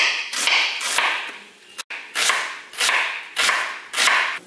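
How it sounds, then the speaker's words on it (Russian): A knife dices half an onion on a cutting board, seven or eight crisp strokes in an even rhythm, close up with no talking. "Половину средней луковицы нарежем мелким кубиком."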